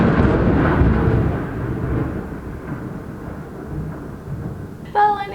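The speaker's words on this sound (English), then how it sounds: "That lightning bolt was very close." Thunder from a very close lightning strike: a loud, heavy low rumble rolling on for several seconds in an outdoor storm, slowly fading, with a brief sharper sound near the end.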